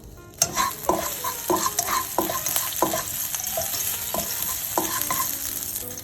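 Shallot sautés in olive oil in a Staub pan, a soft continuous sizzle broken by repeated sharp clinks and scrapes of a utensil stirring at close range, with no talking.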